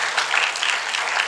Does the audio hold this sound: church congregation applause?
yes